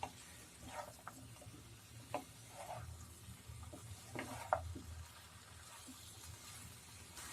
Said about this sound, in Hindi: फ्लेम को थोड़ी देर हाई पे रख के इसे मिक्स कर लें।